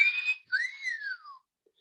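Two human whistles imitating a catcall: a short steady tone, then a longer rising-and-falling wolf whistle, clear and alone against silence.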